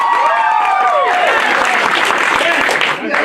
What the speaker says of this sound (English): I want you to clap based on which one you want to hear